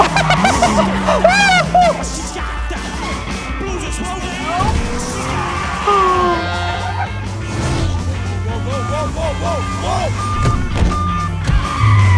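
A car engine revs hard and roars through a chase, tires squealing in a drift, layered with a dramatic film score and sound effects.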